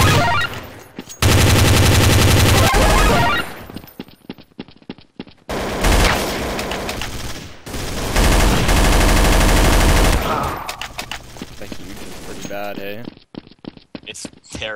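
Gunfire in Counter-Strike: Source comes in loud, rapid automatic bursts separated by short gaps, close and harsh, with players' voices talking intermittently through the action.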